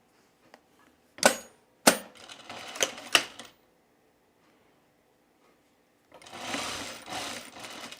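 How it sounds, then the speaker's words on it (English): Short, sharp mechanical bursts of a sewing machine stitching collar pieces for a pullover camp shirt, several quick clacking runs with silent gaps, then a longer softer run of stitching. "So we're going to sew this together."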